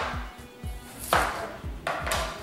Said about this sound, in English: you want to take your potatoes, wash them off, which I've already done, and you want to slice them into slices